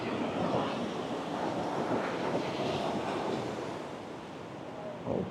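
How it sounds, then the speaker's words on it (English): Ocean surf rolls onto Balangan surfing beach in Bali, a broad continuous wash of waves mixed with wind rumble on the microphone, easing slightly near the end. "It is a surfing beach."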